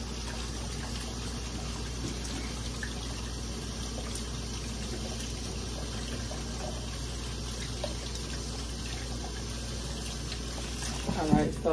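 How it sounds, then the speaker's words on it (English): Hands washed under a running kitchen tap late at night while cooking, a steady, moderate trickle of water that runs evenly throughout over a low background hum. "Wash my hands for the night."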